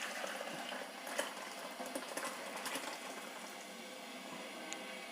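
Tomato rasam boils and froths in a pot after asafoetida powder goes in, a steady close bubbling hiss with small crackles and pops and no talk.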